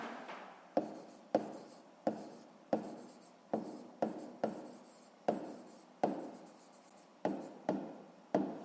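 A pen scratches across paper in a math lesson, writing in a steady series of short strokes, each starting with a small tap, close and fairly quiet.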